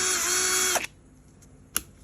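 Cordless drill powered by a rebuilt battery pack whines steadily at high speed for under a second, then cuts off, followed by a sharp click; close and loud, with no talk.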